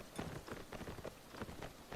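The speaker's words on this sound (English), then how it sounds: "there's lots and lots of rain" Rain falls steadily in the strategy video game L'aigle, a quiet, continuous patter of drops with faint rhythmic tapping and no talk.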